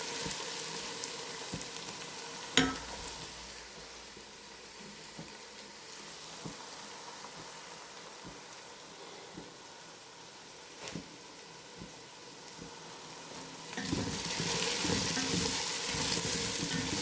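A generous batch of shallots fries in a pan with a constant soft crackling sizzle, punctuated by occasional clicks and stirring sounds, growing louder and busier near the end.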